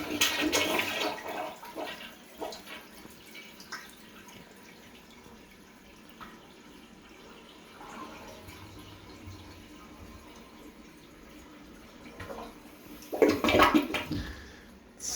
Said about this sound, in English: This is the toilet that is not flushing well.